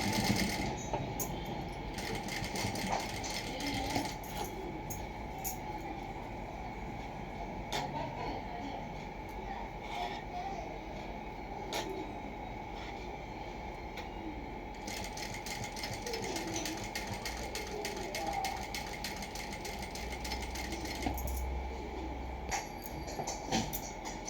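A sewing machine stitches along the edge of a plain blouse with lock stitch, running in a steady, continuous mechanical whir with rapid ticking needle strokes close by, with no talk.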